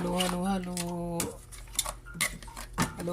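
A spoon stirs freshly cooked food in a pot, making a few scattered metallic clinks and scrapes at close range after someone speaks briefly.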